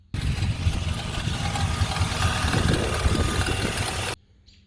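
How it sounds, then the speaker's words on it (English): A running Chevrolet Suburban engine with a noisy AC compressor makes a loud, steady rattling whir for about four seconds, close up, then cuts off abruptly. "y'all hear that noise that you heard in the first video?"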